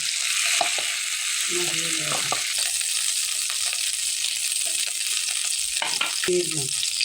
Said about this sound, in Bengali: বন্ধু বান্ধবীরা আমার মাথা মাথাকে ভাজা হয়ে গেছে আমি একটু ভেঙে দিয়েছি